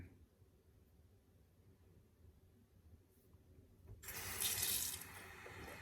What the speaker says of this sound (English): I'm just going to run it under some hot water so that it glides across the face